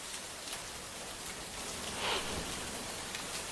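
Heavy rain pours down on flooded streets in the King Circle area of Mumbai, a dense, even hiss that swells slightly midway.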